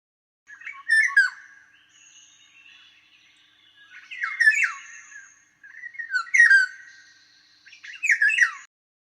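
A sample of bird song played back in the Merlin Bird ID app: four separate bursts of bright chirping, trilling song, each about a second long, with short pauses between, clear and up close with no talking.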